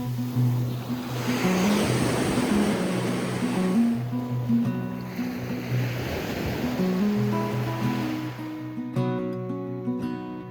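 Waves wash onto a mainland beach at El Nido, with a broad, steady surf roar that swells and eases in two long surges. A faint tonal hum runs underneath, and nobody speaks.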